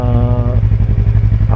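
A motorcycle fitted with a stock standard exhaust idles close by, its engine thumping in a fast, even pulse with a brief higher whine at the start, loud and alone.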